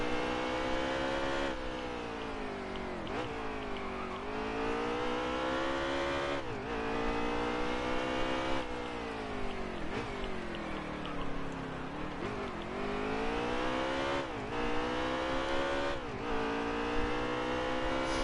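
In a NASCAR video game at Sonoma, race cars run in a long line with engines revving and shifting, the pitch climbing repeatedly and then dropping at each gear change, a continuous loud drone with no one talking.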